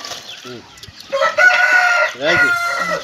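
A fighting cock being raised for Sankranti cockfights crows loudly and close by, giving two long cock-a-doodle-doo calls. Short clucks and other fowl noises come before the crows.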